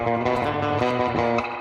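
Twangy electric guitar notes through an amp simulator set for a surf tone ring out continuously, drenched in reverb and a wet, splashy echo, played with a steady picked rhythm.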